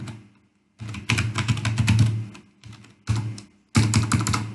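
A project name is typed on a computer keyboard as several close bursts of rapid key clicks, separated by short pauses.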